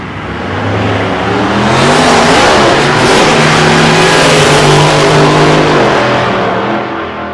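Drag racing cars launch down the strip at an Australian nostalgia meet, one car suffering trans brake trouble and no first gear; loud, sustained engine roar builds and holds for several seconds, then eases off at the end.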